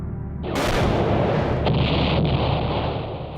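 Artillery barrage at the battle of Dien Bien Phu: a heavy, continuous roar of blasts that swells in suddenly after half a second and rumbles on loud and dense to the end, with no voices.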